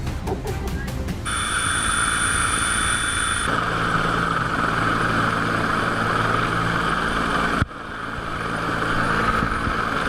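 A steady, loud rotor and engine roar from an Emergency Management Queensland rescue helicopter hovering close by over the sea, with a high whine over the first few seconds and a brief dropout near the end.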